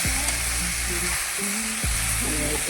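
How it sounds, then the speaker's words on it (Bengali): Food fries in hot oil in a home kitchen, a loud, dense, continuous sizzle close by with occasional low bubbling and pan scrapes, no talking. "এইভাবে এখন ভাজাটা শুরু করবো"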